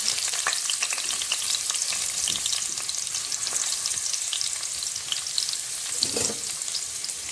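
Chopped onions and cumin sizzle steadily in a hot frying pan, a constant crackling fry with occasional stirring scrapes and no voices.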